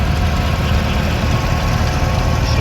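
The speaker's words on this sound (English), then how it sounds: "Justin Funky, 1954 Super M." A 1954 Super M tractor engine idles at a show, a steady, loud, low rumble with a slight knocking texture and no speech.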